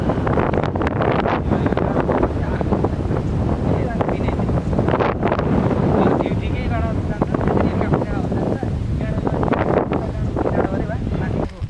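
Strong wind gusts across a steep grassy hillside at Kanchangadi, roaring steadily and buffeting the microphone, with a person's voice heard faintly beneath the rush.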